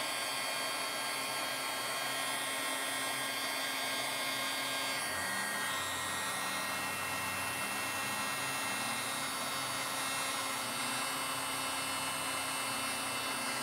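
A heat tool runs steadily while melting embossing powder on a shimmering glitter Christmas card, a constant close whooshing blower hiss with no pauses.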